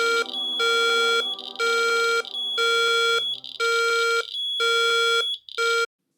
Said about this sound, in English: This is an example of the alarm on the ObserverBLE app,